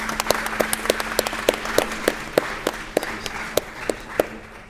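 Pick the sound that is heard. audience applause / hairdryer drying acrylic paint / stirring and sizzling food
audience applause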